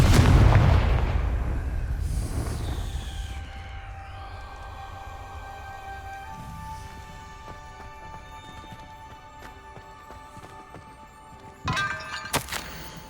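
A Confringo fire spell from the video game Hogwarts Legacy bursts in a loud explosion, followed by a long ringing, shimmering tail and another sharp hit near the end.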